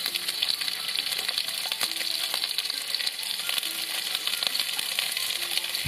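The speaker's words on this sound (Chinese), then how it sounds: "然后将所有的新香料爆炒出香气" Smashed garlic cloves, shredded ginger, scallion whites and spices stir-fry in a wok in dark caramelized sugar, a dense continuous sizzle broken by scattered clinks and scrapes, steady and close with no talking.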